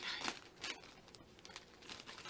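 Quiet crinkling and snipping of plastic packaging in short bursts, close by, as scissors cut through the wrapping of a yarn haul.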